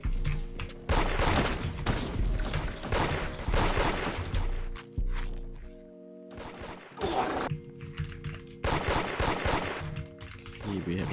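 Rapid bursts of automatic gunfire crackle in the Roblox game Da Hood, loud and close, broken by short pauses and one quieter gap, with game sounds mixed in.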